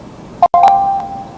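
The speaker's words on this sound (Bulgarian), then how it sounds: "съжалявам за този звук, ако сте го чули, това е моят телефон" A mobile phone plays a short notification tone: a brief beep, a tiny gap, then a sustained electronic tone that fades over about a second, heard fairly loud over a faint background.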